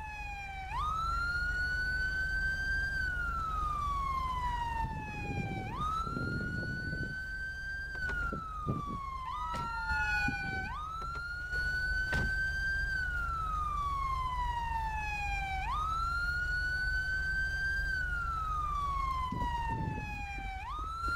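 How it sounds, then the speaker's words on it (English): Police car sirens in the GTA 5 roleplay game: a loud, continuous wailing siren rising and falling in long regular sweeps, with a lower steady engine hum beneath and a few faint clicks. "All right, everybody, kill the sirens"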